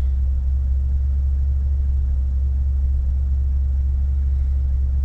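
Exhaust of an old Mercedes car recorded right at the tailpipe in windy conditions: a steady, deep, low rumble that fills the whole clip without change, close and loud, with no voices.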